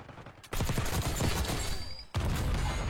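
A grenade goes off in a video game, a sudden loud blast at about half a second that rolls into crackling bursts and ends with a second sharp hit, no talk.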